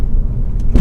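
A Ford Fiesta ST with a Stage 2 remap gives a short burst of deep, loud engine rumble as it pulls under acceleration, with no talk.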